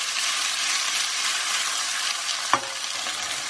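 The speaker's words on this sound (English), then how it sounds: "I have been stirring this for about 2 minutes, so my spices are nicely cooked." Spices cooking in a pan for a chicken curry, a dense continuous hiss of frying with one sharp clack of a utensil near the end, nothing else heard.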